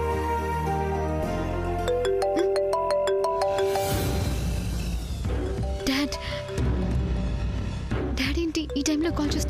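A mobile phone rings with an incoming call in a Telugu TV serial scene, its melodic ringtone playing loudly and continuously with dramatic background music and sound effects underneath.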